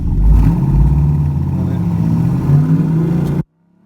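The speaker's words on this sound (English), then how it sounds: "It just revved up, and then we didn't really go anywhere." A second-hand car engine with a worn, slipping clutch revs loudly and holds a high, strained whine without pulling away, the pitch rising and sagging, then cuts off abruptly.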